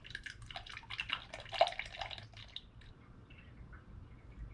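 Motor oil pours through a funnel with a built-in strainer during an oil change on a 2005 Ford Five Hundred, a faint, soft burbling trickle that swells briefly and then tapers off, with no talking.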